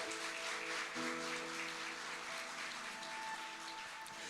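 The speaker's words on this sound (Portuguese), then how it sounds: "aplauda o Senhor mais uma vez aí no seu lugar." A church congregation applauds in praise, a soft, distant-sounding wash of clapping heard at low level with a faint sustained musical tone underneath.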